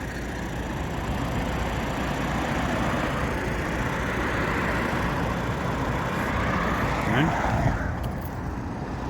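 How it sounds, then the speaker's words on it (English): Steady roar of main road traffic beside the River Mersey at Otterspool in Liverpool: a continuous, even rumble and hiss of passing vehicles that never lets up, with a slight swell near the end. "Sorry about the main road noise."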